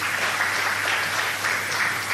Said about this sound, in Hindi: VK वर्मा जी और उनकी टीम वो किचन में जो थी उनके लिए फिर से और जोरदार तालियां प्लीज़।